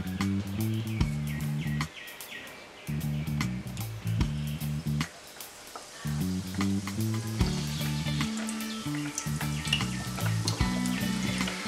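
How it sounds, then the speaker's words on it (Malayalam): Donuts deep-frying in oil give a continuous bubbling sizzle, with a low droning hum pulsing in and out beneath it and occasional light clicks, no voices. "ബാക്കിയും കൂടെ നമുക്കിതുപോലെ വറുത്തെടുക്കാം."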